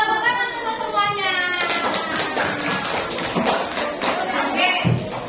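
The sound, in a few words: classroom children clapping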